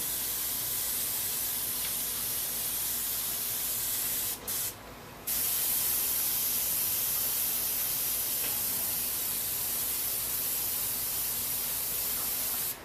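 An airbrush sprays paint in a long continuous hiss for a drop shadow on a painted hill, close and steady, with one brief pause before resuming at the same level.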